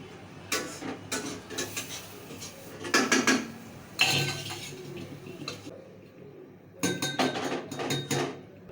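Pots and utensils clatter and clink in bursts in a home kitchen, metal knocking against metal close by, with short quiet pauses between the handling.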